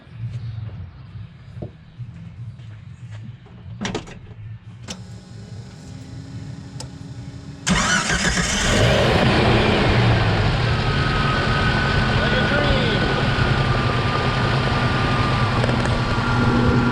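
A Jeep Cherokee with a Renix engine and freshly overhauled ignition clicks and ticks through a cranking attempt, then fires and settles into a loud, steady idle close by.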